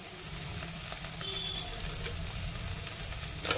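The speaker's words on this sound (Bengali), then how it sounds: "এটাকে এবার নেড়ে নেড়ে নেড়ে নেড়ে ভাজতে হবে" Bottle gourd peel frying in a pan with a little sugar added, giving a steady low sizzle with faint scraping stirs throughout, a sharper scrape near the end.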